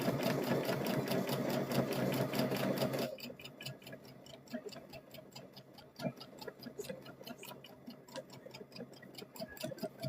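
A sewing machine back stitches a fabric trick-or-treat bag, starting with a dense whirring run that shifts into slower, evenly spaced ticking stitches, close up and moderately quiet.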